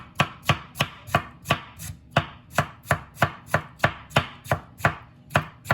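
Knife chopping green tomato on a cutting board for a dessert pie, a steady series of about fifteen crisp, evenly spaced chops, close and distinct with no talking.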